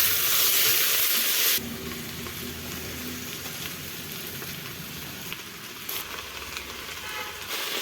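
Cabbage frying in oil in a pan with bay leaf and cinnamon, a steady loud sizzle that drops to a softer, continuous crackle with faint stirring scrapes, no speech.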